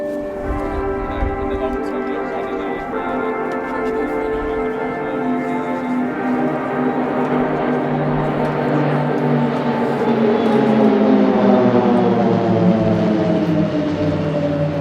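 Swiss Air Force Pilatus PC-7 propeller trainers flying a formation display at an airshow, a steady loud drone of engines that swells slightly toward the end, with sustained harmonic tones shifting in pitch as the aircraft pass.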